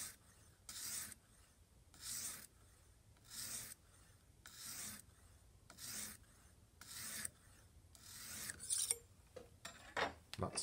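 A pocket knife blade is drawn across a Lansky 600 grit fine sharpening stone in about eight quiet, evenly spaced rasping strokes. Quicker, scrappier scrapes follow toward the end, all faint and close.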